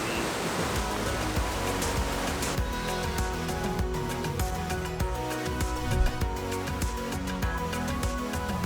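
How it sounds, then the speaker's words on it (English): Waterfall on a mountain hiking trail with snow nearby, a loud constant rushing roar of falling water close by, steady and unbroken throughout. "And already waterfalls."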